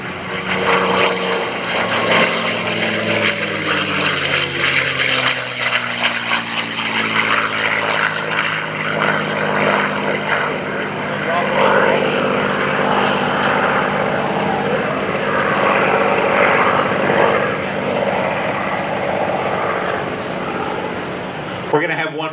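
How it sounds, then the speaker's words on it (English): A P-51 Mustang propeller fighter makes airshow photo passes, its loud piston-engine roar building and sweeping past with a falling Doppler drone, sustained overhead noise and a voice talking faintly at points. "We're going to have a couple of photo passes by Scooter"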